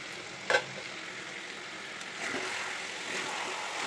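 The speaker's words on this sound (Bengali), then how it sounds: "চিকেন কষাচ্ছি" Chicken sautéing in a pan on a home stove, a soft steady sizzle with a brief scrape of stirring near the start, faint and continuous with no talk.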